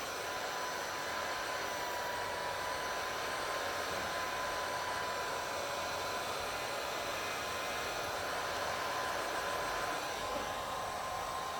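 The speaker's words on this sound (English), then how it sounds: "take your heat gun and get around this edge all the way around" A heat gun blows with a constant, even roar of airflow while it warms the edge of tint film on a 2015+ Ford Mustang headlight. The sound holds steady for about twelve seconds with no speech.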